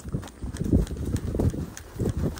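Hooves of a ranch horse clip-clopping in a steady walking rhythm while riding out with cattle, up close and fairly loud against open outdoor background.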